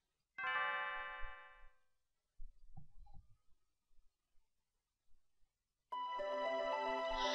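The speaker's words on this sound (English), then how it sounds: "Lin's bell makes such beautiful music." Leene's Bell in the video game Chrono Trigger rings out in bright chiming tones, one decaying peal, a quiet stretch with soft low thumps, then a second clear peal, with no talk.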